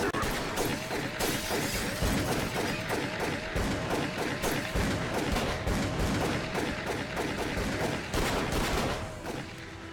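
Dense, chaotic gunfire with shattering impacts and thuds sounds throughout a combat scene in Call of Cthulhu: Dark Corners of the Earth, loud and near before easing slightly at the end.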